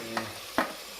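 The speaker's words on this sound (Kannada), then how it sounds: "3 ತರಕಾರಿ ಹಾಕ್ಕೊಂಡು ಅದನ್ನು ಚೆನ್ನಾಗಿ ಫ್ರೈ ಮಾಡ್ಕೋಬೇಕು ಎಣ್ಣೆಲಿ" Beans, carrot and potato frying in oil, with two short sizzling bursts as the vegetables are stirred over a low background hiss.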